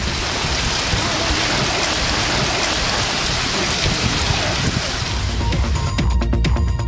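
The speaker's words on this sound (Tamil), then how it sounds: "தருமபுரியில் சூறைக்காற்று மற்றும் இடி மின்னலுடன் கனமழை பெய்ததால்" Heavy downpour during a thunderstorm with strong gusting wind in Dharmapuri, Tamil Nadu: a dense, steady roar of rain fills the whole stretch, loud and close, with low rumbling beneath and no talking.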